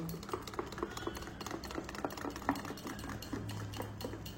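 A spoon stirs Eno fruit salt into dhokla batter in a bowl, giving soft, repeated scrapes and light clinks close up, quiet and continuous with no talk.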